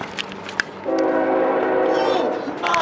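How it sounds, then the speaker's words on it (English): A train's horn blares in a sustained, loud tone over rumbling rail noise, with a few sharp knocks just before it. "there's a train coming"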